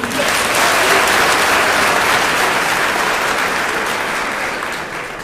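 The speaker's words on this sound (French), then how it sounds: "ce sont nos frères de lutte, les gilets jaunes que je vous demande d'applaudir aujourd'hui" Sustained, dense applause from a large audience at a political speech, greeting the yellow vests, loud and steady before tapering slightly at the end.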